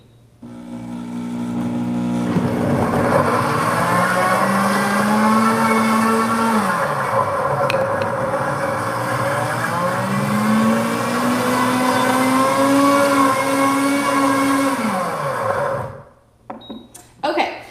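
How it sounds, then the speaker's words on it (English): Blender running to purée baby food in a glass container, its motor rising in pitch, dipping briefly near the middle, then spinning up again for a second long whirring stretch before stopping abruptly, with a few small clatters after. "So let me go ahead and start this."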